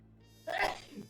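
A single sharp sneeze bursts out close to the microphone after a quiet moment, followed by a brief trailing breath.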